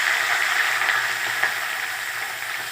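Green chilies frying in hot oil with garlic, dried red chilies and cumin for an amaranth curry, a continuous dense sizzle held close and fairly loud with only faint clinks beneath it.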